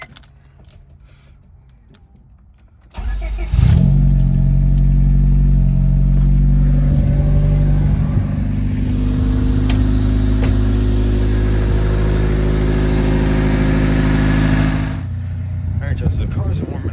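A Honda D16Y7 engine with a short ram intake cranks and catches after a quiet stretch, then settles into a loud, steady, close idle, and the sound drops off near the end.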